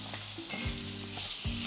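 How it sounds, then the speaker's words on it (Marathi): Tomatoes and cashew pieces sautéing in a pan, a steady close sizzle with a couple of stirring scrapes, no voices. "आणि टोमॅटो ना हे छान परतून घ्यायचे 7 ते 8 मिनिट"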